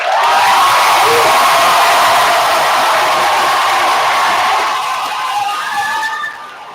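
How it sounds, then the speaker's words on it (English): A large commencement crowd applauds and cheers the 2025 graduating class, a loud, dense roar of clapping with whoops and shouts that holds steady and then tapers near the end. "please give a round of applause to every single one of our"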